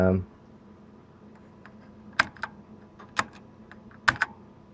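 Keys are pressed on a 1993 Focus Key Pro FK9000 keyboard with a built-in calculator, a few sharp separate clicks in small bursts over near silence, after a brief voice at the start.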